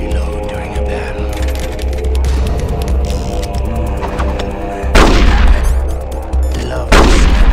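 Sustained gunfire in a battle in Metal Gear Solid: The Twin Snakes, a dense continuous barrage of shots and booms with two louder, close bursts near the end.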